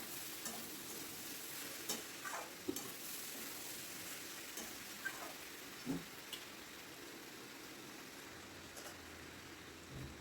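Gobindobhog rice, prawns and ash gourd being mixed in a pan, a faint steady sizzle with scattered soft scrapes and taps of the spoon, close but quiet, no voices.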